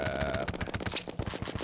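Minishark gun rattling off a fast burst of automatic fire in Terraria, sharp clipped shots in a quick regular rhythm, loud and close.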